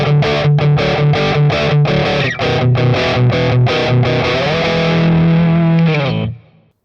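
Electric guitar played through a Boss Katana amp with effects, distorted and chorus-tinged, strums a string of rhythmic chords then holds a sustained chord that rings out and cuts off, loud and up close.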